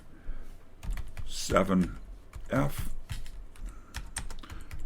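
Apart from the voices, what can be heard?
typing on a computer keyboard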